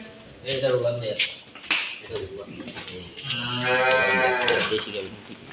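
Cattle at a farm selling bulls and crossbred cows moo loudly and close by, one long low bellow after another, with someone talking over parts of the calls.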